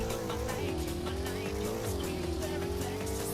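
A car in the Greenville video game runs from a standstill toward top speed, its engine note climbing steadily as gears change, loud and continuous with faint tire noise and no talking.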